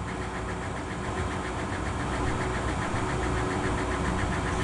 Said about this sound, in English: The sound in the background is actually the exhaust system that is working, extracting the fumes